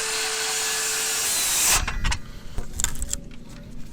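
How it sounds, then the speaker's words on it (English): A circular saw plunge-cuts through a wooden wall-framing board, a loud steady high whine for nearly two seconds that cuts off abruptly, followed by scattered knocks and handling clatter. "I'm going to plunge cut right through that board to get the rest of that chunk"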